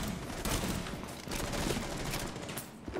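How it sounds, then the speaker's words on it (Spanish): Rapid bursts of video game gunfire crackle continuously, dense and loud, like a sustained firefight with overlapping shots. "el tío va pegando tiros y matando gente así"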